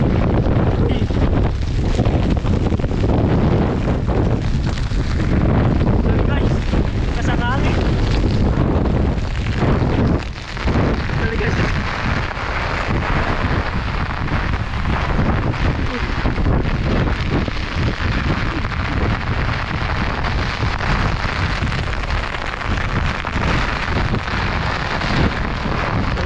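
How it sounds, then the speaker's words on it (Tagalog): Typhoon-strength wind near a river roars into the microphone without letup, a loud, constant buffeting rumble that drowns out everything else. "ang lakas ng hangin"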